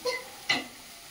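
Tomatoes fry in a pan for a lote fish curry, with two quick scraping stirs over a soft, brief sizzle.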